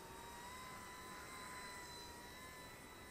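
A small Eachine E120 BO-105 six-axis RC helicopter whines steadily as it lifts off and flies, an unbroken high-pitched motor and rotor hum holding constant, fairly faint and without talking.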